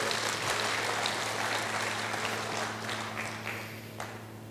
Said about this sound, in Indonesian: Berikan tepuk tangan buat Tuhan Yesus ya.